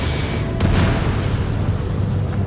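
A destroyed target explodes in the combat flight game Ace Combat 7, a loud deep boom that swells about half a second in and rumbles on steadily to the end.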